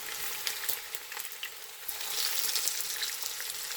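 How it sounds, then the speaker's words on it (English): Oxtails browning in a hot pan, a soft, steady frying sizzle with a few faint clicks and shifts of meat, fairly quiet and without speech. "so you're just going to add your oxtails"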